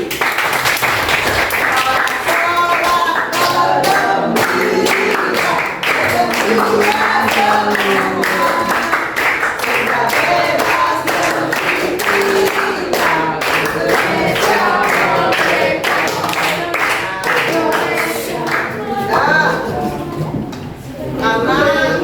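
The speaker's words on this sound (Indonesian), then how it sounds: "Tepuk tangan dulu." A school class claps together at the end of a lesson, the clatter of many hands rhythmic and loud for a long stretch while voices and cheering mix in, fading near the end.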